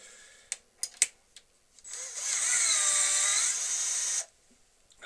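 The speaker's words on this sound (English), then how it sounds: "I'm going to drill a 10mm hole" A few light taps and knocks come first, then a power drill whines steadily for about two seconds, boring a 10mm hole into a tealight-holder workpiece, and cuts off abruptly.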